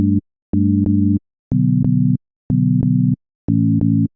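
Synthesizer chords programmed in Ableton Live for a modern melodic house track, played as five short, clean, evenly spaced stabs, each split into quick repeated hits with silence between, loud and alone with no voices.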